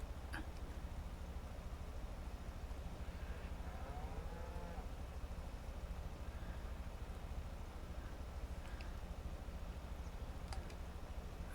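Cattle lowing in Farming Simulator 25 on a dairy and cattle farm, a faint moo or two drifting in under a constant engine-like drone.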